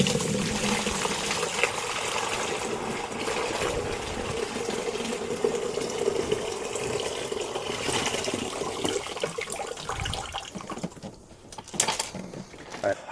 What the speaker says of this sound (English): let's just pour it in, let's dump it into the bucket